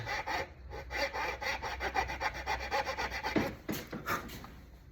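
A handsaw cuts through the end of a Gibson F-12 mandolin fingerboard, the blade shielded by thick leather, giving a loud, steady back-and-forth rasp of even strokes close up, with no talking.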